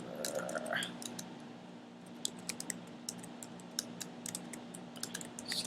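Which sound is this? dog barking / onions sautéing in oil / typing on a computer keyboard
typing on a computer keyboard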